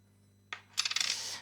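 A 2 franc coin drops onto a table with a sharp first hit followed by a quick rattling run of bounces as it spins and settles, close and clear in a quiet room.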